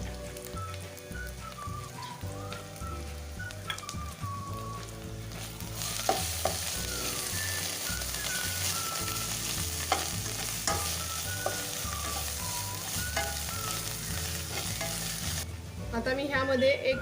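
Onion frying in a pan with coriander powder added, a steady close sizzle under repeated scraping stir strokes, the hiss swelling louder midway before easing back.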